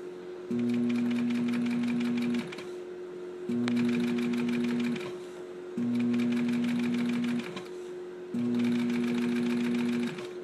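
A sewing machine stitches a zipper and piping in four short bursts of rapid mechanical chatter with a whirring motor hum, separated by brief pauses, close and clear under a steady background hum.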